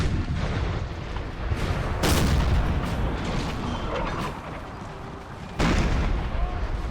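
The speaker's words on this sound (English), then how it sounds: "These cheaper artillery units can take some time to fire, but that was pretty satisfying to watch." Artillery units fire across a Napoleon: Total War battlefield, with dense continuous booming and rumbling gunfire and a few louder blasts standing out, distant and layered like a large battle.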